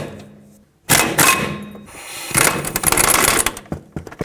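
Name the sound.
18mm socket removing caliper bracket bolts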